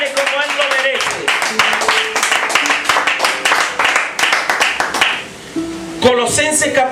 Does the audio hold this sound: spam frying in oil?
no